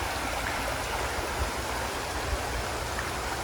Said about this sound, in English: good-sized brook